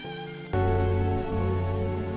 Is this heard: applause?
no